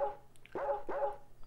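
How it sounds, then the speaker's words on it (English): Two sharp barks from a dog in the PS1 detective mystery game Mizzurna Falls, ringing out over a steady game music bed with soft chimes, close and clear. "is the doggy outside waiting for it?"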